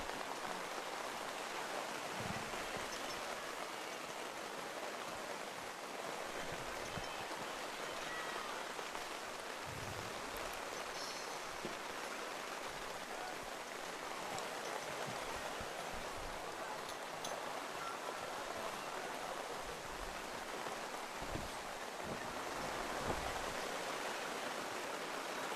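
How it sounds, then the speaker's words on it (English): Steady rain falls and patters on surfaces at an outdoor track meet, a dense, even hiss that continues unbroken with no voices. "Now this rain must be tough to run."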